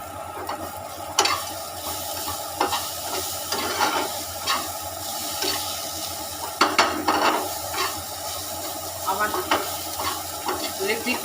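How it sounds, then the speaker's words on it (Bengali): Semolina roasting in a pan with chopped ginger, green chili and onion, a steady sizzle broken by repeated scraping and knocking strokes of a stirring spoon. "সুজিটা আমি ভেজে নিচ্ছি আদার কুচি লঙ্কার কুচি দিয়ে দিলাম পেঁয়াজ কুচিও দিয়ে দিলাম"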